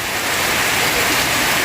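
Heavy rain pours down in a loud, steady hiss, a dense unbroken downpour that fills the short stretch with no other sounds or talk.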